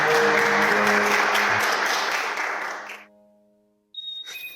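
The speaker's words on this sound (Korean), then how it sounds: "하나님께 영광에 박수." A church congregation claps together in sustained, dense applause for about three seconds, then it stops abruptly and a brief electronic beep follows in near silence.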